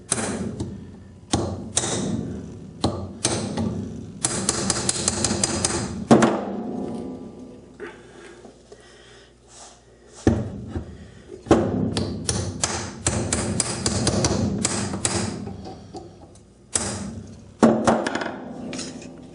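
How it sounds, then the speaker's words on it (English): A hammer knocks a press-fit part off a South Bend drill press during bearing replacement, a series of sharp metallic whacks and thuds in irregular bursts with pauses between, close and loud, no talk. "Should take just a couple of whacks here."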